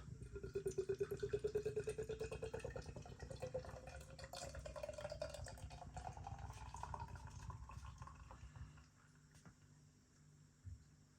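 Murphy's Irish stout pours from a can into a glass with a steady gurgling glug that rises in pitch as the glass fills, then tapers off into quiet near the end.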